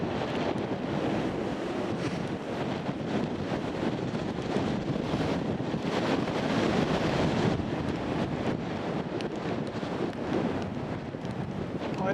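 Strong wind buffets the microphone beside the River Great Ouse near St Ives, a loud, continuous roar and rumble that gusts slightly but never lets up, with no one talking.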